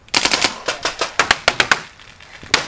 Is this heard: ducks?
no